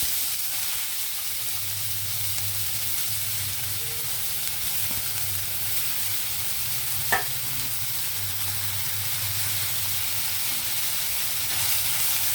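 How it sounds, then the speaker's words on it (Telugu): Onions frying in oil in a pan, a steady soft sizzle that runs throughout with a faint low hum beneath and one brief click midway. "ఇప్పుడు మనం అదే ఆయిల్లో ఆనియన్ వేసి ఫ్రై చేద్దాం."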